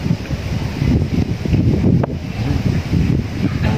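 Strong wind gusting across an open dam eco park facing the Sierra Madre mountains in Bustos, Bulacan, a steady loud roar and buffeting against the microphone throughout, with no voices.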